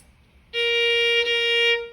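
One flat violin note sounding slightly lower than the natural, a bowed sustained tone of just over a second with bright overtones, clear and alone at moderate loudness, with no voices.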